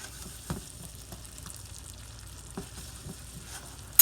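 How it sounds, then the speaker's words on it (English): Soft, steady sizzling and bubbling of sauce for pumpkin mac and cheese simmering low in a pan, low and even, with a few faint clicks and taps. "Turn that down low so it'll just kind of"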